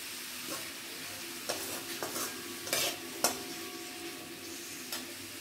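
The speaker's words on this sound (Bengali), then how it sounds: "এবার পেঁয়াজগুলো একটু ভেজে নিতে হবে।" Onions sizzle softly in a pan for a Bengali-style chicken curry while a spoon stirs them, giving several sharp scraping clicks over the low, steady frying hiss.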